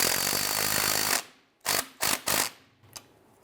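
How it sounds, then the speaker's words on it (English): Ratchet snugging down a bolt on a 1999-2004 Jeep Grand Cherokee steering stabilizer: after a loud power-tool whir stops, three short close rasping ratchet strokes follow, then a faint click. "Go ahead and snug down this bolt."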